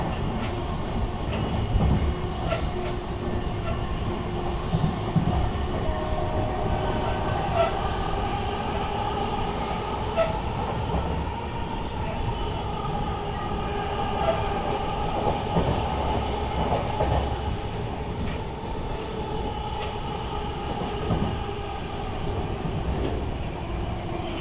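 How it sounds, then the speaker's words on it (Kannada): A Belagavi–Bengaluru superfast overnight train runs on rails as it enters Chikkabanavara junction at dawn, with a steady, loud rumble of wheels and carriages and faint rhythmic clatter throughout, without talk. "ನಮ್ಮ ಟ್ರೈನ್ ಈಗ ಎಂಟ್ರ್ ಆಗೈತಿ ಚಿಕ್ಕಬಾಣಾವರ ಜಂಕ್ಷನಿಗೆ"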